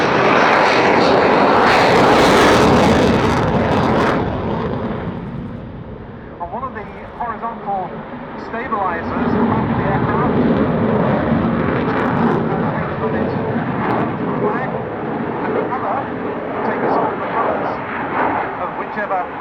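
Belgian display F-16 fighter jet in a dark paint scheme at an air show, a loud sustained engine roar that swells and eases, with a voice talking over it.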